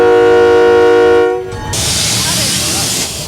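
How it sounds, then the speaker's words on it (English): A loud steady mechanical whine with strong tones from a train locomotive's air compressor cuts off, followed by a rushing hiss of air, close and continuous. "There, the compressor. That keeps this pumped up."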